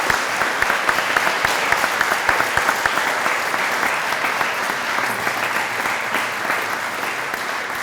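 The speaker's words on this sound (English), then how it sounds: "Can we just give them a round of applause?" Sustained, loud audience applause for a national champion university swimming and diving team fills the whole stretch, steady dense clapping without a break.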